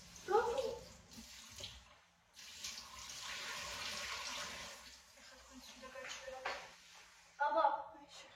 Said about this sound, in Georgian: ჩაშავებული წყალი გამოდის